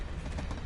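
A passing train in the video game Life is Strange gives a brief, faint, steady rumble with a rattling rail texture, heard alone without talk.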